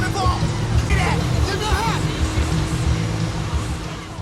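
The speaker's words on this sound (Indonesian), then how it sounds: "Tony memiliki ide gila untuk berpindah ke mobil Joe dalam kondisi mobil yang tetap berjalan." A car driving along at steady speed, with a continuous engine and road rumble, loud and close, while voices talk over it.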